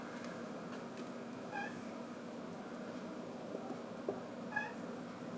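A cat gives two short meows a few seconds apart, faint and somewhat distant over a quiet indoor background hum.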